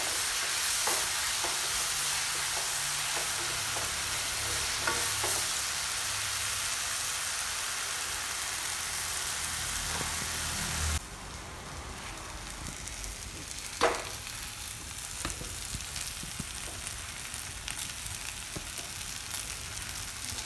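Onions frying and browning in a pan for a roasted chicken curry, a steady close sizzle throughout with intermittent stirring scrapes and clicks and no talking.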